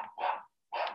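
A dog indoors lets out two sharp barks separated by a short silence, fairly faint and close by.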